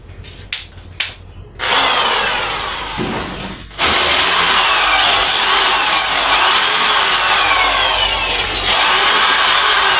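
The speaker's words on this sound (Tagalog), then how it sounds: "Barinahan natin guys ng pambato yung pader para pagkakabitan natin ng screw." A power drill with a masonry bit bores into a wall to take a plastic anchor and screw for mounting a wall fan. A few short starts lead into a loud, continuous grinding whine that runs steadily to the end.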